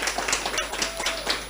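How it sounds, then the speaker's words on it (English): An audience at a Rotary Club inauguration and charter installation claps, a dense burst of applause lasting the whole brief moment. "Let's give him another round of applause."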